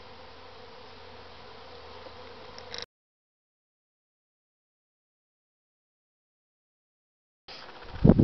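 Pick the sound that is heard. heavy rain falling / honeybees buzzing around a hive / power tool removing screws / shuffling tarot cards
honeybees buzzing around a hive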